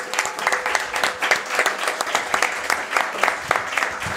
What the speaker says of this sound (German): einen Mini-Applaus bitte ganz zwischendurch für den Komponisten